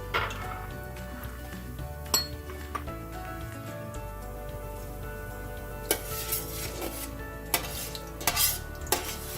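Lentils brown in hot oil in a pan with a soft, faint sizzle, broken by clinks and scrapes of a utensil against the pan that land at irregular moments.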